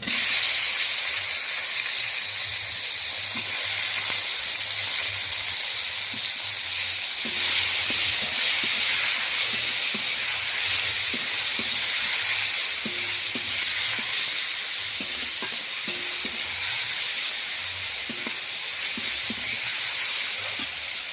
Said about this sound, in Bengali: পেঁয়াজটা লাল করে ভাজা হয়ে গেছে এখন আমি দুটো ছোট টমেটো কেটে রেখেছিলাম সেগুলো দিয়ে দেবো